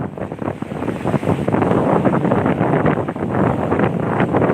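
Rough sea waves wash against the coast at Gumaca, Quezon, heard as a steady, loud roar of surf heavily buffeted by wind on the microphone, with no talking.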